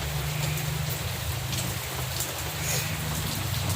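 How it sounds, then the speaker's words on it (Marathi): Heavy rain falls continuously in a thick, even wash of noise, close and constant, with a low drone beneath it. "किती पाऊस आहे."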